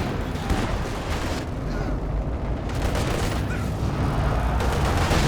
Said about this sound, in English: there's just so many shells coming in from them